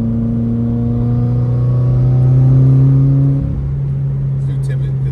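Subaru WRX with its entire exhaust removed, the engine droning loud and close with strong low harmonics that swell, then drop in pitch as it settles back to a rough idle.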